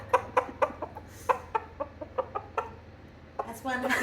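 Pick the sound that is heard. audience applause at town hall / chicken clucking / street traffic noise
chicken clucking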